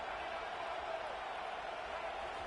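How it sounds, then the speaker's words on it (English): Stadium crowd at a college football game, a steady broadband roar of many voices filling the whole moment without clear peaks, distant and continuous. "Listen to the crowd energy here in the early going."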